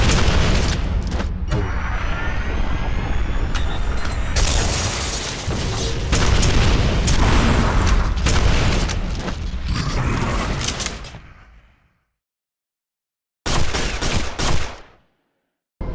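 Rapid gunfire and booming explosions while shooting the Macron in Quake 4, a dense, loud barrage of shots and blasts that cuts off abruptly, followed by silence and one short final burst.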